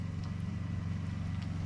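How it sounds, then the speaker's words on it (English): A generator parked up by a truck near a cabin hums faintly in the background, a steady low drone that holds unchanged and alone. "The generator's running up by the truck, so you can hear that hum in the background."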